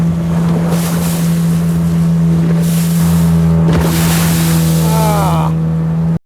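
A speedboat races across open sea waves in the Bay of Bengal off Kuakata. Its engine drones loud and steady from a near seat at the bow, with wind rush and bursts of water splashing against the hull.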